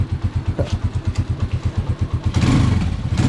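A rarely used, kick-started motorcycle idles close by with a steady rhythmic chugging, then the engine is briefly revved louder near the end.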